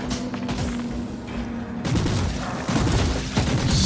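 Enemy guns fire in Warhammer 40,000: Inquisitor - Martyr as dense, continuous bursts of gunfire, with heavier booming volleys landing every second or so over a loud battle din.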